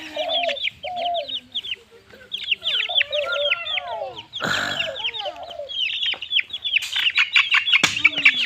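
Young fighter-breed chicks cheep and cluck in rapid bursts, close by in a poultry pen, with brief rustling and occasional louder fowl calls.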